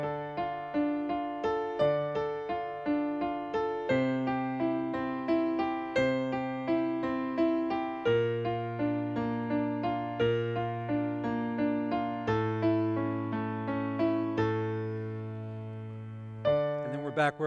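A piano plays a steady chord progression, its left-hand bass notes following the roots of each chord. The chords change at an even pulse, resonant and close, and end with a final ringing chord, with no voices.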